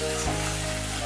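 Spice paste (masala) for a Bengali rui fish curry hits hot oil with a steady, close sizzle that holds evenly throughout, with a low hum of tonal background noise underneath and no talking.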